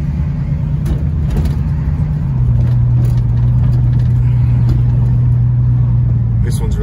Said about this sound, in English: Cruising in style in Peter's 1973 Mustang convertible.